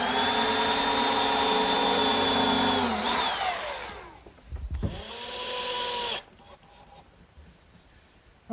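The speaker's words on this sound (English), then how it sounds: "Now I'll just drill and countersink for the screws." A power drill bores and countersinks screw holes in a wooden sandbox side: a loud, steady high whine winds down, then a second shorter burst follows before quieter handling noises.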